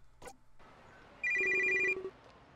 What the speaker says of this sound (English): My phone vibrates and I go to look at it.